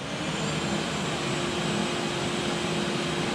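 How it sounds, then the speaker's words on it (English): A vacuum cleaner runs in a garage as a steady, unbroken whine and rush of airflow, fairly close and continuous throughout with no voices over it. "now you're going to turn the vacuum on"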